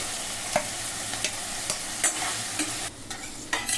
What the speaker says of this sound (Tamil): பச்சை மிளகாய் போட்டு வதக்கணும் ஃப்ரெண்ட்ஸ். இஞ்சி பூண்டு போட்டுக்கலாம்.